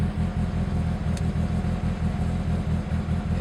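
A turbocharged 2.4-litre car running E85 on a stock ECU pulls hard under acceleration, a steady close engine drone with pulsing low-end rumble and no talk over it.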